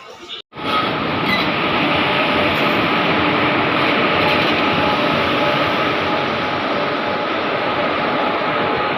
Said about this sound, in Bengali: ট্রেনটা আসুক ট্রেনের অ্যারাইভালটা দেখাই